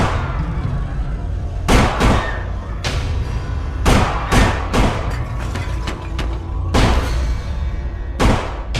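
A series of sharp, loud bangs in irregular bursts, several shots spaced a second or so apart, over a steady low rumble.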